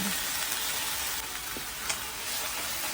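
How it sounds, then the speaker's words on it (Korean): King oyster mushrooms stir-frying in butter with sauce in a pan, giving a steady, loud, dense sizzle throughout with faint stirring clicks and no talking. "소스가 모두 졸여질 때까지 볶아주고 잠시 옆으로 이동시켜줍니다."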